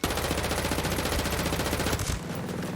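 Rapid automatic gunfire from a weapon in Ghost Recon Breakpoint, a loud sustained burst of fast repeated shots that cuts off near the end, leaving a brief tail.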